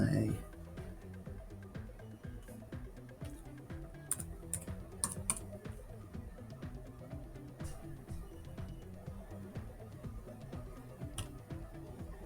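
Someone types a password on a computer keyboard, a quick run of close, light key clicks with a few sharper taps, over a quiet room and with talking alongside.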